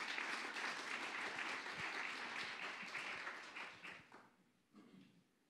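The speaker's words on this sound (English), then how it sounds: "Would you give him a very good round of applause?" Audience applause for a speaker at a three minute thesis competition, dense steady clapping from a roomful of people that tapers off over the last couple of seconds to a few stray claps.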